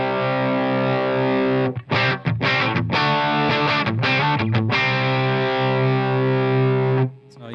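Distorted, gritty music through a studio compressor with cranked input gain, a loud sustained tone broken by a run of choppy rhythmic stabs in the middle, then held again before stopping.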